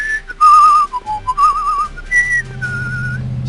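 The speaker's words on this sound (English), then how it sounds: "never just start whistling aimlessly, tunelessly" A character in a Back to the Future video game whistles aimlessly and tunelessly, a wavering, meandering whistle in short phrases, loud and close with no talk.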